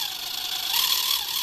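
A small electric motor driven by an ESC speeds up, its steady high-pitched whine rising slightly in pitch as the throttle is opened, close and alone with no talk.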